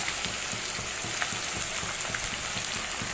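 Banana chips frying in hot oil give a steady, close, crackling sizzle, broken by small popping bursts and faint stirring scrapes.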